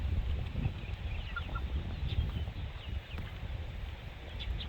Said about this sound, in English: Pasture raised chicken, Parkinson Farms.